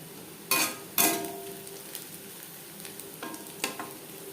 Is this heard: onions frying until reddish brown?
yes